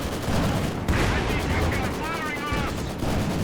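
Light artillery barrage in Company of Heroes 2, a loud, continuous rumble of rapid shots and blasts layered with battle noise, close and dense throughout.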